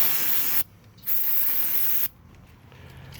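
Two sharp bursts of spray hiss from an aerosol cleaner can onto a t-shirt-material rag, the first short and the second longer, with a brief quiet gap between them and a faint rattle afterward.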